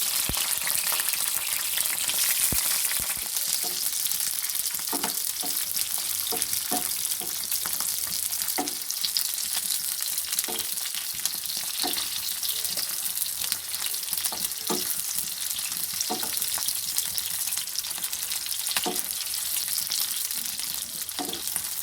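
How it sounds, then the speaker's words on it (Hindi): Slit green chillies frying in hot oil with mustard seeds in a home kitchen, a continuous loud sizzle with regular stirring scrapes and clinks of the spoon against the pan, no voices. "इसके बाद हम ये हरी मिर्चें कट लगी हुई जो हैं ये सारी डाल देंगे, इसे फ्राई करेंगे"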